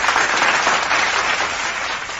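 A soundboard applause effect plays as a continuous, dense wash of clapping, loud and even throughout, with no voices over it.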